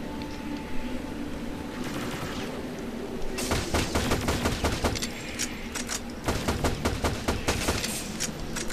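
Rapid bursts of pulse rifle fire in the Shadowgrounds video game follow a quieter stretch of ambient hum, with loud, repeated automatic volleys filling the second half.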